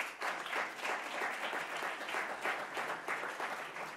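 A diploma ceremony audience breaks into steady, dense applause, with many hands clapping continuously at an even volume throughout.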